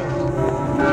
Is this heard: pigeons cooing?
no